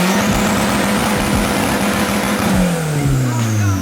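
A turbocharged Honda Civic running an inexpensive eBay turbo kit revs hard on a dyno, its loud, continuous engine note climbing and then sweeping through the rev range, close and alone with no talk over it.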